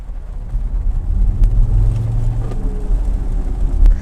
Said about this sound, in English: when it comes to acceleration, it should be noted that this Jaguar I-Pace takes a bit of time